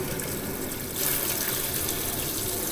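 Water runs from a camper van sink tap fed by a water pump, a steady close hiss of flowing water that gets louder and brighter about a second in, with no talking.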